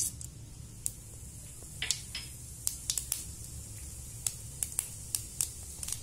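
Spices sizzling in about three tablespoons of hot oil for a black pepper salan: a steady low frying hiss with scattered sharp crackles and pops, some close and bright, spread irregularly throughout.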